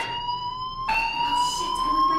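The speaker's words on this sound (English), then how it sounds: "do you hear that fire alarm? That means you should be outside." In the video game Life is Strange, a fire alarm rings continuously with a loud, steady, high electronic tone that shifts slightly midway, with faint background noise and no voices.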